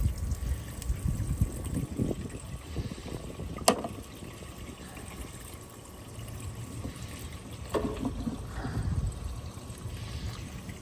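Electric fuel transfer pump running as it moves gasoline into a tank, a steady low whir and liquid trickle with a couple of brief clunks, no voices.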